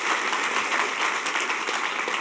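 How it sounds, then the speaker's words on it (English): Audience applause at a hacker conference closing ceremony (HOPE Number Six, 2006), dense steady clapping from a crowd filling the whole moment, loud and continuous with no voices over it. "I think we all deserve a round of applause for number 1."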